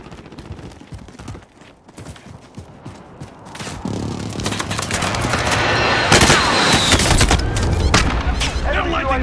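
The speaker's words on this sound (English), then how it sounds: "Precision airstrike, take cover!" Precision airstrike explosions and gunfire in the Warzone shooter game: bursts of rapid shots at first, then a dense, loud barrage of blasts and crackling fire that builds and sustains, with voices mixed in.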